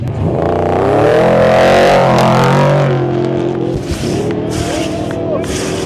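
Off-road truck engines roar and rev hard as they accelerate away together, loud and close, with crowd babble and engine noise lingering afterward.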